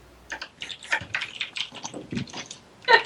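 Keys clatter in quick irregular bursts on a computer keyboard during a tabletop gaming session, fairly close and moderately loud, ending in a sharper cluster of strokes.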